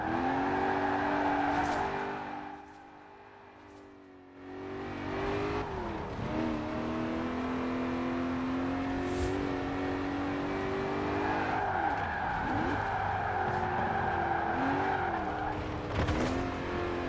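A hot rod El Camino in Forza Horizon 4 rumbles loudly and steadily with engine pitch shifting up and down, a brief dip in level, and occasional tire squeal.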